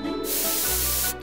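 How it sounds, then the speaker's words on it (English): A cartoon magic spray bottle lets out one loud, close hiss lasting about a second, sharp at the start and cut off cleanly, with no talking during it. "With just one spray, it's all better."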